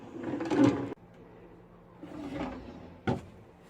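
A drawer in a lightweight, mostly plastic RV kitchen unit slides open and shut, with a muffled thud near the start and a short sharp knock near the end, heard close by and alone.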